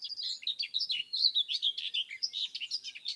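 Whitethroat song, a fast scratchy warble of short high chattering notes delivered continuously with no pauses, clear and fairly close against quiet surroundings.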